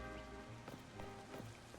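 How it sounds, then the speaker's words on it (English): Rain muffled by a sky bridge overhead in the video game Pokemon Legends ZA: a faint, soft, steady patter with light scattered taps, heard from beneath the covering. "they've muddled the sound of the rain being under there"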